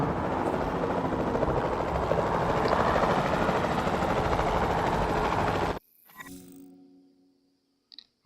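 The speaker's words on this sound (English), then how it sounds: "the sensible thing is to take a capture team helicopter" Helicopter in a dinosaur video game, a capture team chopper tracking from the air: a loud, steady rotor drone that holds for about six seconds, then cuts off abruptly, leaving faint scattered sounds.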